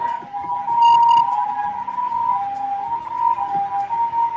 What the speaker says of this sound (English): You can hear a siren.